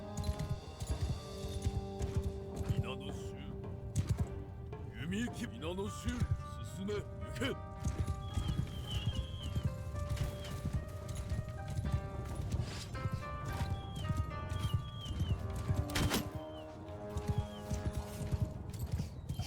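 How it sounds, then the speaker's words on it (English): Video game cavalry galloping in Shokuho: steady clip-clop of many hooves thundering along, mixed with a horse whinnying and battle din, while someone talks over the top. "these cavalry guys seem to be coming straight at us"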